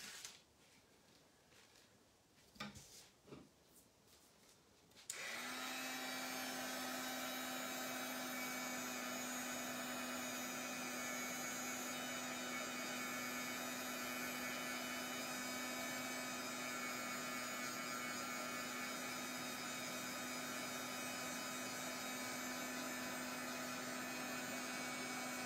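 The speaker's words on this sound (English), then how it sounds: "I'm just going to come in and give that a nice dry." A heat tool dries paint on a Christmas mixed media craft piece, starting after a few soft handling noises and then blowing as a steady, continuous fan whine with a constant hum for the rest of the clip.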